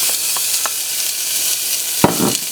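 Pork browning over medium heat in a 2-quart pot, a loud steady hiss of frying with a few sharp scrapes and stirring clatters near the end, no voices.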